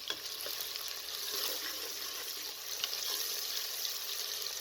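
Steady oily sizzling of onions frying in half a cup of cooking oil for palak gosht, continuous and close, with faint crackles and no voices.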